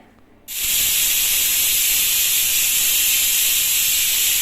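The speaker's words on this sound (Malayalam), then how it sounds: "ഇപ്പോൾ ഞാൻ കുക്കറിലിട്ട് വെച്ചിട്ടുണ്ട് അപ്പോൾ അത് വിസിലടിക്കട്ടെ" A home pressure cooker on the stove releasing steam: a sudden loud, sharp, high hiss that starts after a quiet moment and then holds steady and close, with no speech.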